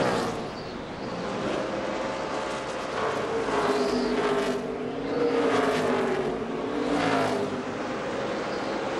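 NASCAR stock cars roar around Richmond on the final lap of the 2005 Chevy Rock & Roll 400, a loud continuous engine drone that swells and fades as packs of cars sweep past.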